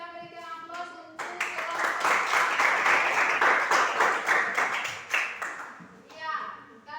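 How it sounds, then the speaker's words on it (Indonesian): Classroom applause from students during a teacher-training lesson, a sustained burst of many hands clapping for about five seconds, with children's voices talking before and after it. "kita berikan aplaus untuk"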